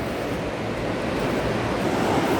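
A loud, rushing river at the Devprayag confluence roars in a continuous broadband torrent, steady and close, with wind buffeting the microphone.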